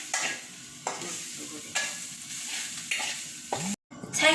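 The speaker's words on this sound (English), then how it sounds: "After that, put the mushroom." Mushrooms frying in a pan for spaghetti give a steady close sizzle, with a handful of regular stirring scrapes and a brief silent gap near the end.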